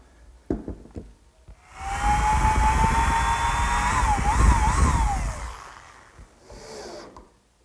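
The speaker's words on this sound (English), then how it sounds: "Now I'll put 4 screws on each shelf" A power drill driving screws into a wooden corner cupboard shelf, a loud steady whir rising and falling in pitch as each screw seats, lasting several seconds alone with short clicks before and after.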